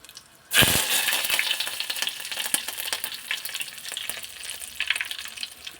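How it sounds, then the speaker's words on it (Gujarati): Curry leaves hit hot oil for a dal tempering and burst into a loud sudden sizzle, then settle into steady close crackling and spitting with occasional stirring clicks. "આપણે થોડુંક લીમડો નાખી દેશું"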